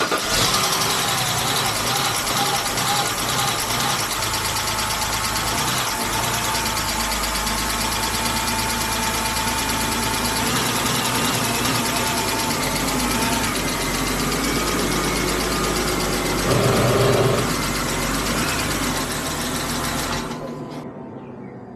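A BMW E60 with some components unplugged cranks and starts, then settles into a loud, steady, slightly uneven rough idle for about twenty seconds before it cuts off near the end.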